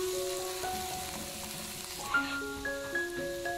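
Chopped medium onion frying in ghee and oil in a kadai gives a steady, even sizzle throughout, with faint tonal background music running underneath.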